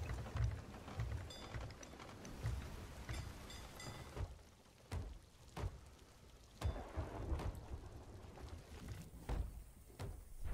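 Rain pours steadily during a thunderstorm at sea in the pirate video game Sea of Thieves, with repeated low thunder rumbles rolling through the hiss. The storm is quiet overall and heard alone, with no voices.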